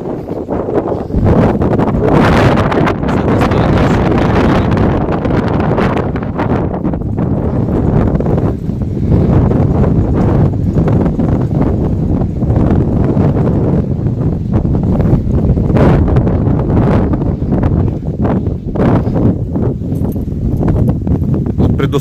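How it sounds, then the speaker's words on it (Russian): Strong, gusty wind roars steadily across the microphone ahead of a thunderstorm, a loud continuous rumble with rustling bursts that never lets up. "Я думаю, слышно, какой дует ветер."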